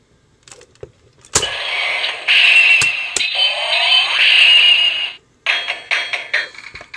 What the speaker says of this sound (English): it'll make that noise and I'll start doing this like kabuki dance music